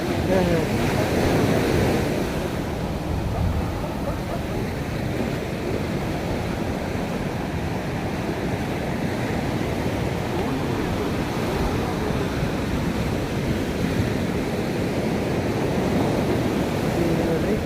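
Sea waves wash onto the sand at Kanyakumari's sunrise point, a broad steady roar of surf with wind buffeting the microphone and no voices.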